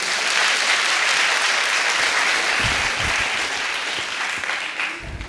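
Dense audience applause at a product launch event, loud and continuous throughout, with a few low thumps and a slight fade toward the end.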